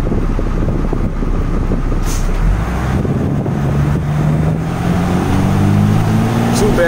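A 1993 Chance Coach trolley bus drives along, its engine rumbling low under heavy road and wind noise, with a rising whine as it picks up speed; someone talks over it.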